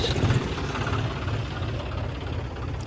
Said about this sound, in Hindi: मैं आपको उस ट्रैक्टर स्टार्ट करता हूँ, मैं चलाता हूँ।